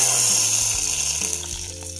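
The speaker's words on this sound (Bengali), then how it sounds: "চিনিটাও মেল্ট হয়ে গেছে। এবার চলো ঢেলে দিই এর উপরে। কেমন আওয়াজ হবে দেখো।" Melted sugar poured over food sizzles with a steady, loud hiss that holds throughout, with a faint low hum beneath.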